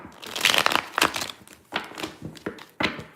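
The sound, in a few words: tarot cards being shuffled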